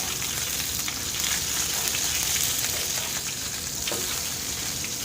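Chicken burger patties frying in oil in a pan, giving a loud, steady, dense sizzle throughout with no pauses.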